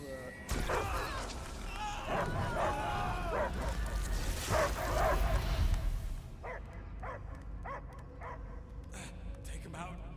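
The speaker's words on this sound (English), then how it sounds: "I hear only barking." A dog barks and yips in the Guardians of the Galaxy video game, with short repeated barks standing out in the second half after a stretch of dense voices, music and effects.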